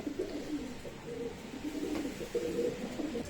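Pigeons cooing inside a loft housing parents and their young, soft low repeated coos overlapping from several birds close by, with no voices.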